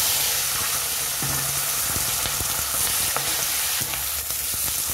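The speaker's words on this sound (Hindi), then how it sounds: "यहाँ पे हम लोग ने अपना प्याज और टमाटर को कट कर लिया है। अब हम लोग इसे डाल लेंगे तेल में।" Chopped onion and tomato frying in hot oil: a loud, continuous close sizzle with scattered stirring clatter and crackles, no voices.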